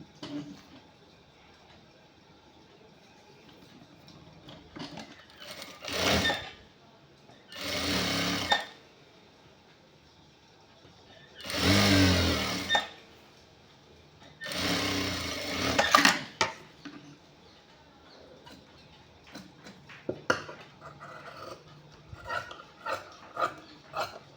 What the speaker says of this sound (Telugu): రెండో కప్స్ కూడా కుడుతున్నాను.